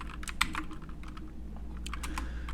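Close, rapid typing on a computer keyboard, with irregular bursts of crisp clicking keystrokes and short pauses over a low background hum.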